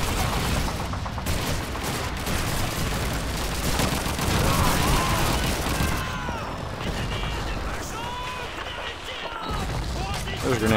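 Heavy gunfire in the Call of Duty 2 video game, dense rapid bursts of rifle and machine-gun fire with explosions, continuous and loud throughout, with a player's voice talking over parts of it.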